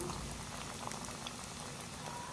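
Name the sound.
potato chicken kebabs frying in a pan on low flame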